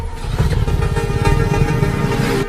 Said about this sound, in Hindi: इंजन में से बहुत आवाज आ रही है